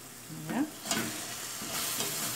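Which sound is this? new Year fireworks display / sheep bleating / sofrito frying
sofrito frying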